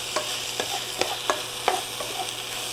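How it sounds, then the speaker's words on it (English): A taco potato and ground beef skillet is stirred, with several distinct scraping strokes at an uneven rhythm over a steady background hiss and a low hum. No one speaks. "I'm going to start mixing this up"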